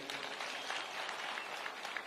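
Crowd applause for the president at a political rally in Siaya County, Kenya, a steady dense clapping wash that fills the whole stretch at moderate distance with no break.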